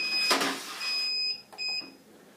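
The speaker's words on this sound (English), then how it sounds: "Alright, our timer is about to go" A brewing timer sounds a few high, steady electronic beeps in a quiet room during a home brew day, with short pauses between the tones and a brief soft rustle.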